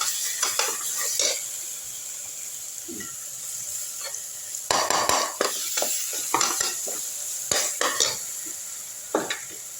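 Onions and tomatoes are stirred and sautéed in a pan for a tamarind curry (vatha kuzhambu), with a steady sizzle beneath irregular bursts of a spoon scraping and clinking against the metal pan.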